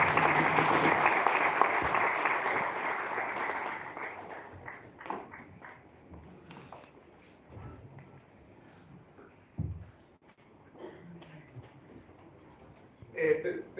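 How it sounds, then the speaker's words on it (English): Audience applause fills a lecture hall after a public lecture by Professor Arthur Mutambara, loud and dense for about four seconds, then fading into scattered claps, shuffling and faint murmurs. "let's give another round of applause to the professor once again"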